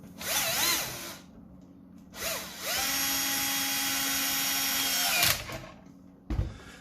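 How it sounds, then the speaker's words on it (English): Power drill whirring as it drives a long bolt into the pump grip of an HPA Spring Thunder conversion, a short burst then a sustained spin of about three seconds, close and loud with brief pauses. "Take one of the long bolts and a nut, and we can whiz that in with a drill."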